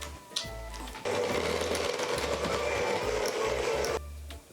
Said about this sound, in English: I'm gonna add some sugar and then beat that with an electric mixer until it's nice and smooth.